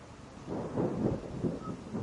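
Monsoon rain pouring down hard at night with low rolling thunder, a steady dense wash broken by several swelling rumbles over about two seconds, with no voices.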